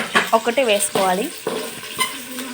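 Curry leaves sizzle in a pan of oil while coconut-milk rice is being made, a soft frying hiss beneath a person speaking.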